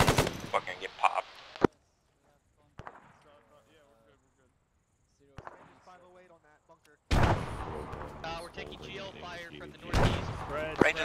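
Loud bursts of automatic machine gun fire in the military shooter ArmA 3 during a weapons platoon exercise, two heavy rattling volleys separated by quieter stretches with voices talking over radio.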